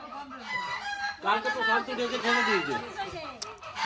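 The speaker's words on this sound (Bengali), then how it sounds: "মুরগিগুলো এত চেঁচায়" Chickens squawking and crowing in a household yard, loud and close, with a drawn-out crow-like call rising in the middle and people's chatter mixed in.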